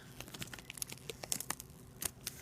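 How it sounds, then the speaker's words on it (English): Plastic wrap being peeled and torn off a Ligawo Wii to HDMI MK III converter stick, with quiet crinkling and sharp tearing bursts in an irregular rhythm, close and alone. "There it has a wrap on it. I will unwrap it."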